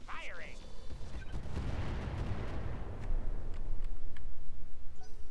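Heavy mech weapons firing in RogueTech, a burst of booming artillery-like blasts rolling into sustained rumbling impacts, with a voice speaking over the barrage.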